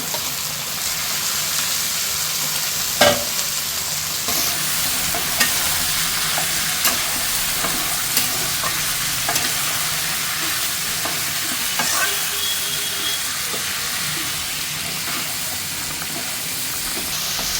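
Meat and shrimp fry in a pan, giving a steady loud sizzle and hiss with periodic scraping knocks of a utensil stirring, close up and without talking.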